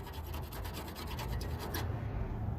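Close, faint scraping of rust flakes being pried off a car's steel frame rail, a dry gritty rasp with quick repeated strokes, then a steadier scrape.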